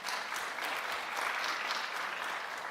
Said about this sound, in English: Please give a round of applause for Veronika.